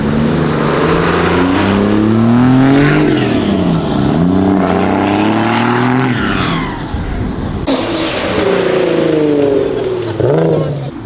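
Cars leaving a Cars and Coffee meet rev loudly and accelerate away, engine notes climbing and falling through several gear changes close by, one car following another.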